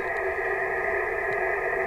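A VHF radio receiver plays in the background as a steady, unbroken hiss-like tone with a hum, constant in level throughout and with no speech.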